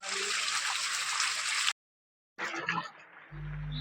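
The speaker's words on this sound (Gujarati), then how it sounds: "ઉપરથી પથ્થરમાંથી પાણી આવે છે" Water trickling out of the rock high on Girnar mountain, a close, steady splashing flow that breaks off into silence, then returns briefly as a gurgle before a low hum takes over.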